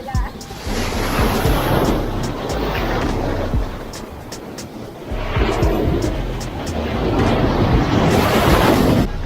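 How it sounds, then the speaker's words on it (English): Strong ocean waves crash and roll continuously on a rocky beach at Playa Los Patos, Dominican Republic, surging louder in two big swells with gusty wind noise over the surf. "And the waves are strong."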